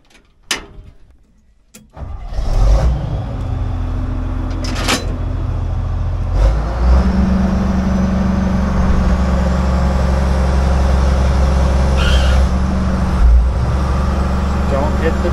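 A John Deere excavator's diesel engine cranks and catches after a couple of short clicks, then settles into a loud, steady idle with a faint rise in revs, heard close up.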